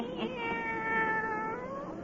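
A black cat meows in a 1935 radio horror drama, one drawn-out, wavering cry lasting about two seconds, close and fairly loud, with no talking over it.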